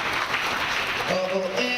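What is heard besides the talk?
audience applause at a banking conference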